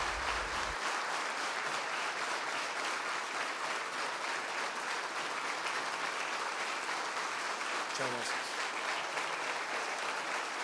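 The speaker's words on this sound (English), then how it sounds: "thank you very much for your applause." Sustained applause from an audience at an evening business gathering in Colombia fills the whole stretch at steady volume, a dense continuous wash of clapping with no speech over it.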